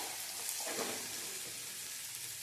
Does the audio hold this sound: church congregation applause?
no